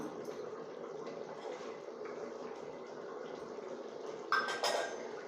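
Quiet bubbling of a pot of mutton kuzhambu curry simmering steadily on the stove, with a brief clink of utensils near the end.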